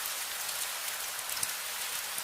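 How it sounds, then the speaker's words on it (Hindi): Steady rain falls on a roadside at night, a continuous, even hiss of drops with small patters scattered through it, moderately soft and unbroken from start to finish. "करीब 15 मिनट बाद बारिश धीरे धीरे कम होने लगी"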